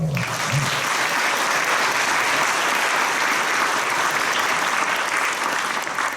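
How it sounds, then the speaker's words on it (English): Loud, dense applause from the audience at a flute band's 50th anniversary concert, greeting the drummers with continuous clapping that stays full and steady throughout. "Give them a round of applause."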